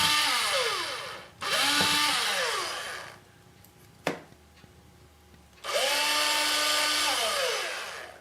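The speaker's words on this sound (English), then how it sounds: "I rotate it ever so slightly to make sure I'm drilling center to center" A drill bores a hole through a wooden fiddle peg in two long, loud whirring bursts that wind down at the end, separated by a quiet gap holding a single sharp click.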